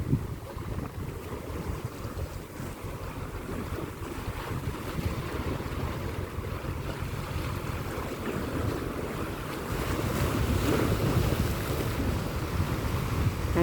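Steady low rumble of a boat passing at sea off Hong Kong under an overcast evening sky, mixed with wind and waves and slightly louder toward the end.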